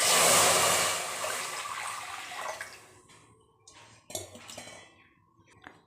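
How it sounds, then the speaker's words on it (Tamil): Water poured into a pan (kadai) on a stove gives a loud gushing rush at first that tapers off, followed by scattered clinks and knocks of kitchen utensils and metal. "இப்போ தண்ணி விட்டுக்கலாம்."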